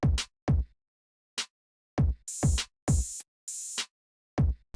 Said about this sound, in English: So with just the snare and the kick, it's gonna sound like this.